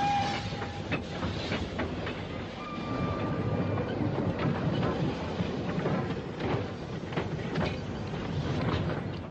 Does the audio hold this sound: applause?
no